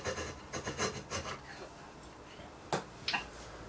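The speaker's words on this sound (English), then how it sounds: "So I'm just going to use a chisel, pare down the bed as well as I can" Steel chisel paring wood from the bed of a traditional wooden jointer plane: a run of close, dry rasping shaves in the first second and a half, then quiet before two sharper scraping strokes.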